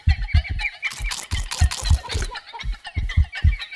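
Chicken clucking in Minecraft, a run of short repeated clucks in a steady rhythm with brief louder squawk-like bursts in the middle, close and fairly clear with no talking.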